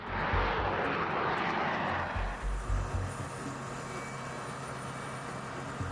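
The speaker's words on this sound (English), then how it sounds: "the ground crew and air traffic control start guiding the plane through the runway," A B-2 stealth bomber taxiing on a runway: a loud, steady engine roar that fades somewhat over the clip, with low rumbling underneath and no talk.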